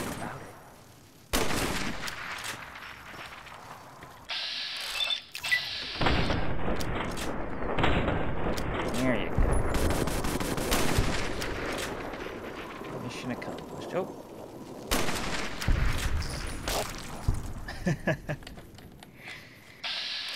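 Rapid gunfire in Fallout: New Vegas, loud bursts of automatic fire and single shots that come and go in waves, broken by brief pauses, with a voice speaking between them.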